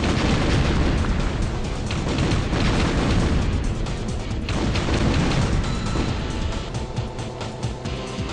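Rocket explosions in Blast Corps on the N64 create a dense, continuous barrage of booms and bursts, loud and crowded together throughout with no clear gaps and no speech.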